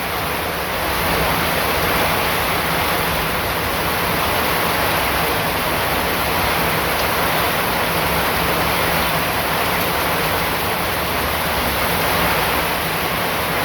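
Heavy torrential rain pouring down, a loud, dense, unbroken hiss of water that stays steady from start to finish, with no voices.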